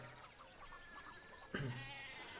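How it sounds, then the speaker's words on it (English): Sheep in the video game Pentiment bleat faintly over quiet ambience, with one louder nearer bleat arriving partway through. "One of the fence rails fell and the sheep started hopping it."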